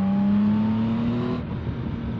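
Over about two seconds, a Yamaha Tracer 9 GT+ motorcycle engine from 2024 pulls with a steady, rising tone. It is close and fairly loud at first, then it eases off and fades.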